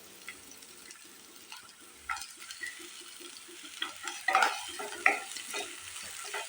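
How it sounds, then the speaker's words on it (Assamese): Chopped onion fries in a pan with a low, steady sizzle while a utensil stirs and scrapes against the metal, the scraping growing louder and busier toward the end. "পিঁয়াজখিনি অকণমান ভাজি লওঁ।"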